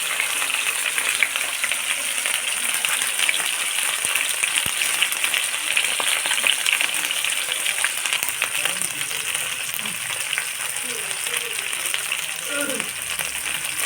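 Fish sizzling in hot oil in a pan, a steady dense crackle and hiss that runs throughout at close range, with occasional faint clinks and brief low sounds beneath.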